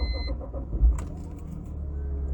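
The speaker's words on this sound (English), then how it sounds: "Car is on." A 2003 BMW 325i E46 starts with a brief catch and thump, then settles into a steady, low engine idle rumble heard from inside the car.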